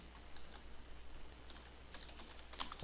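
Light typing on a computer keyboard, scattered soft key clicks that quicken into a denser flurry near the end, close and quiet with no talking.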